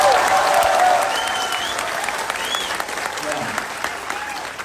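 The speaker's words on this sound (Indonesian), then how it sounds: "Saya kasih tepuk tangan buat mereka semua." An audience at a political dialogue event in Pontianak claps for people with disabilities, a sustained crowd applause that swells at first and then holds steady, with a voice speaking over it.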